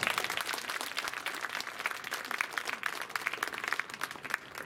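Audience at an anniversary variety show for a Vietnamese Buddhist youth family applauds steadily, a continuous patter of many hands at a distance, soft but sustained with no talk over it.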